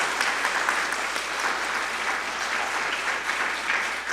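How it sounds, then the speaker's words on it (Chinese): A church congregation claps together during a Sunday service, producing dense, steady applause that holds evenly for about four seconds. "我们一起来拍手来"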